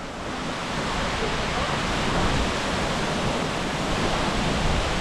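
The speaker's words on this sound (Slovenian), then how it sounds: "Pa se je pokazal mali slap Gveleti." The small Gveleti waterfall in the Georgian Caucasus rushes with a dense, steady roar of falling water, loud and unbroken from start to finish.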